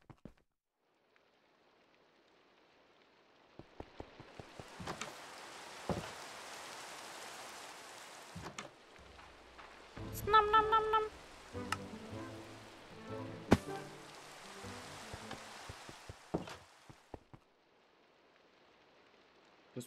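Rain falls steadily in Minecraft with the Pixelmon mod, a soft broadband hiss that swells and fades, broken by sharp game clicks and a burst of eating sounds, with a brief spoken imitation of munching.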